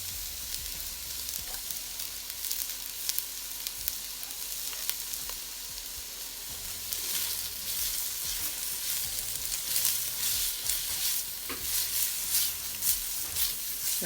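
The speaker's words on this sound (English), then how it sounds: "We're adding the onions." Onions frying in a pan set slightly off-centre on a too-small stove burner, giving a steady broadband sizzle with occasional scraping stirs, close and continuous throughout.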